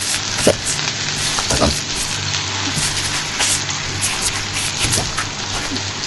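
Mashed potato pressed into hot oil for a Barishal-style potato bhorta sizzles and crackles steadily, with brief louder pops and stirring scrapes over a continuous frying hiss.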